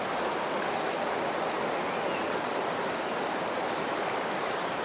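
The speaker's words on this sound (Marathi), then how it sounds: "बघा कसं पाणी वाहतंय संततधार" Water gushes steadily through culverts in a dense, constant hiss and rush, close and even in level, with no voices.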